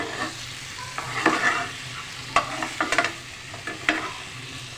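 Potato wedges fry and get stirred in a pan for crispy garlic potatoes, giving a steady low sizzle broken by irregular scraping clatters and stirring knocks, close and fairly loud with no voices.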